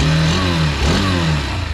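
A Hero Thriller 160R motorcycle engine revs loud and close, its exhaust giving a throaty, continuous roar that rises and falls over a couple of seconds with no one talking.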